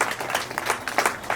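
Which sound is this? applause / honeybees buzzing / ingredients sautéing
applause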